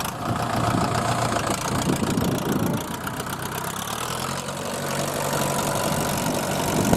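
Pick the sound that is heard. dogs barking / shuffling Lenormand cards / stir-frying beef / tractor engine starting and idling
tractor engine starting and idling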